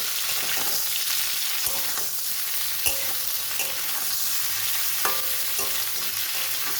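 Cauliflower pieces frying in hot oil for chilli cauliflower, a steady close sizzle with scraping stir strokes and clinks from the pan throughout, no voices.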